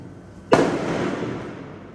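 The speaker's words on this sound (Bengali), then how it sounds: "এই যে আবার গুলি করতেছে আবার গুলি করতেছে" A single sharp AK-47 gunshot cracks out after a brief quiet during protests in Rampura, Dhaka, followed by a long rumbling echo that slowly fades.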